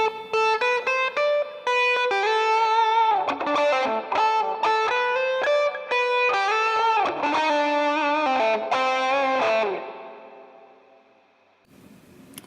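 An electric guitar run through a Mesa amp simulation with a standard 1x12 open cabinet plays a loud, sustained, singing lead of bent notes and rapid runs, then ends on a long fading note with no talking.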